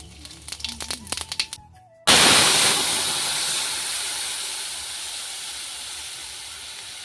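A bay leaf, a dried red chilli and whole cumin go into hot oil in a frying pan, setting off a sudden loud sizzling hiss that slowly fades. A few faint clinks and tones come just before it.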